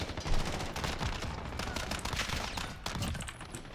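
Rapid, dense gunfire from a customized close-range pistol in Modern Warfare, a continuous loud burst of shots up close.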